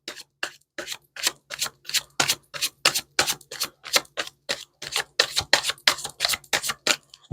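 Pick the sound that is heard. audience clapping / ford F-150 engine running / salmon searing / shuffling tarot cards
shuffling tarot cards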